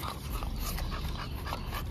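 Bully breed puppies whimpering and yipping at close range, a run of soft, high whines repeating over a steady background.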